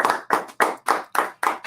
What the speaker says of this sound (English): We'll give you a nice polite round of golf clap.